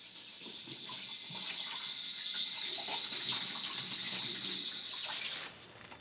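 Tap water runs steadily into beer bottles for rinsing during homebrew bottling, a close, continuous gushing splash that cuts off near the end.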